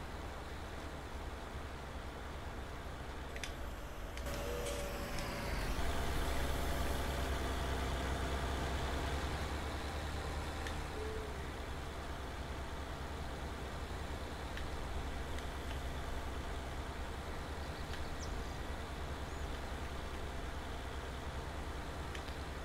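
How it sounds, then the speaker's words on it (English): Tractor engine in Farming Simulator 19 runs at a steady low drone for the whole stretch, with a brief rise and surge around the middle before settling back to an even hum; no one speaks. "That was me making the tractor break dance."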